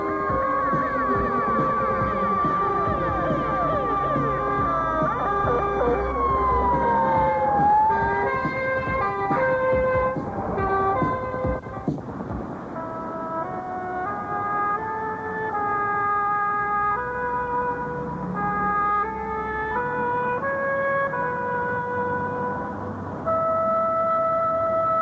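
A fire engine siren wails and shifts pitch as it approaches along a road, loud and continuous with an engine throbbing beneath it.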